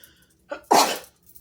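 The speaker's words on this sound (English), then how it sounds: "I have to sneeze." A single close sneeze: a short indrawn breath followed by a loud, explosive burst, then quiet.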